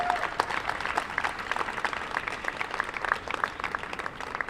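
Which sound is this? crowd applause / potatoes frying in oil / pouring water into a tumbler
crowd applause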